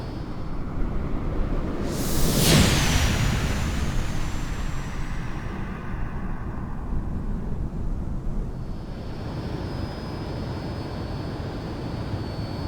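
A Fouga CM.170 Magister jet in Microsoft Flight Simulator making a low pass over a runway: a loud rushing engine roar that swells sharply as it sweeps by, then a steady high whine and rumble as it recedes.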